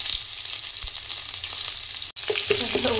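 Ginger-chilli paste and spices spluttering in hot oil, a loud, dense, continuous crackling sizzle up close that breaks off for a split second before carrying on.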